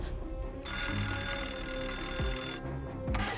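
A telephone rings in a home where police wait for a kidnapper's call, a sustained electronic ring tone lasting about two seconds over a low background, with no voices.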